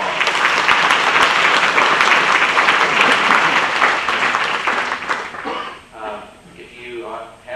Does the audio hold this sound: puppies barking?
no